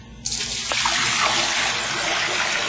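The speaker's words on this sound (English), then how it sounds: "We're going to go into the sink here, and we're going to dump the stuff." Dirty gray rinse water from washing dandelion greens poured into a sink, a sudden steady splashing gush that starts abruptly and continues loudly and close until the end.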